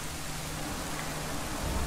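Steady rain in the Zelda game Majora's Mask, a dense, even hiss of falling water with a faint low rumble beneath and no voices.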